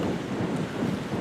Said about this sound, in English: So the wind is a bit of a factor this morning